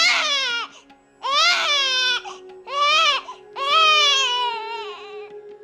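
An infant cries loudly and close in four wailing bursts with brief gasping pauses between them, as a dramatic sound effect with no talking.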